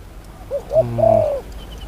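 A spotted dove gives a single close, clear cooing phrase of a few soft, hollow, rising-and-falling notes, heard alone against a quiet outdoor background.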